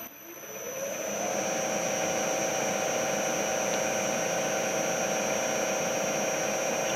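Boring head on a machine spinning at 1000 RPM with an HSS boring bar taking a cut in metal, a steady loud whirring hum that ramps up in the first second and then holds constant, with no speech.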